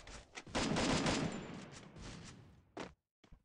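A rapid burst of gunfire in the Free Fire battle royale game, dense and loud for about two seconds, followed by a couple of isolated single shots.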